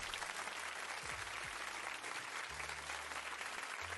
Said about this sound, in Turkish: Vallahi bir daha alkışlıyorum ya.